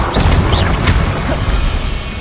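Expelliarmus disarming spell cast during a battle in the Hogwarts Legacy video game, heard as loud booming impacts and crashing magical effects with whooshing streaks in a busy, continuous fight.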